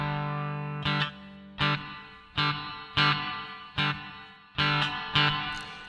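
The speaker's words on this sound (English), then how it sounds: "let's say we're on the deluxe reverb and we want to turn the reverb up." An electric guitar plays through an AdrenaLinn III multi-effects pedal on its Deluxe Reverb amp model with reverb turned up, rhythmic repeated strummed chords with sustained decaying tails, loud and alone.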